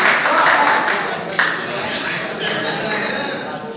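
Audience applause at a mushaira poetry gathering in Garh welcoming poet Nadeem Ramzi, a dense, steady wash of clapping from a large crowd filling the whole stretch without letting up.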